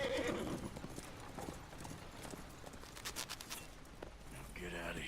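Horse hooves clip-clop at a steady walking pace in the Red Dead Redemption 2 video game, close and fairly loud, with a brief whinny near the start and game ambience around them.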